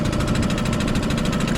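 A Suzuki 2.5 outboard motor on an Old Town 106 kayak idles on a river, a close, steady, fast-pulsing putter with an even drone and no speech.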